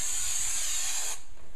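An aerosol spray is directed onto the back of a trunk liner piece during a trunk install, giving a close, loud continuous hiss that cuts off abruptly near the end.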